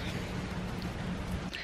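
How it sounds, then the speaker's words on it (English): Heavy rain pours outside a house, a dense, even hiss of falling water that fills the whole moment steadily, moderately loud, with no voices. "It was pouring rain."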